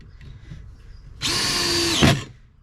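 A power drill drives screws into a wooden raised bed, with one loud, close whirring burst of about a second that follows a quiet stretch and ends abruptly.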